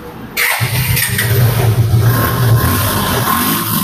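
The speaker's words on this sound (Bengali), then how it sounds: "বাইকটা একটিবার স্টার্ট করে সাউন্ড কন্ডিশন শুনিয়ে দিই আপনাদেরকে।" A black Suzuki Gixxer 150cc motorcycle starts up with a brief cranking burst, then settles into a loud, steady close-up idle with a slight uneven thrum.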